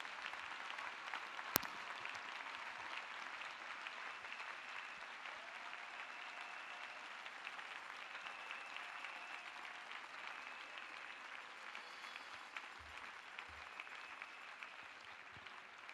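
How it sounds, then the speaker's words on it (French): A church congregation applauding, a steady wash of clapping from many hands that carries on evenly throughout, fairly distant and without any speech over it. "Let us clap for Jesus."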